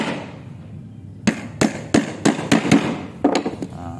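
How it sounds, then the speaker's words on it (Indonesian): A hammer drives nails into wood in a carpenter's workshop: a run of about nine sharp, loud, close strikes in an uneven rhythm, with no talking. "kita tancapkan terlebih dahulu pakunya ya"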